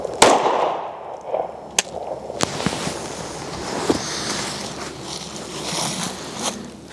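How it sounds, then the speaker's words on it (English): An everyday carry pistol fires several sharp, loud reports, spaced irregularly over a few seconds outdoors, each a sudden crack with a short ringing tail over faint background noise. "I'm going to shoot a little bit here"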